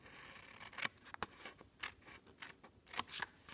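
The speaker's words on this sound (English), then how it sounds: "I'm going to cut this last piece completely off." Close, quiet scissor snips cutting a piece of paper off for an adhesive-free cube box, several sharp separate cuts at uneven intervals with no talk.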